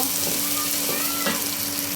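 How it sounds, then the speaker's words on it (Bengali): Onion, green chilli, garlic and tomato fry in oil for a duck curry, a dense, even, close sizzle that continues steadily without talk before cutting off abruptly. "এটা ভাজা ভাজা করব"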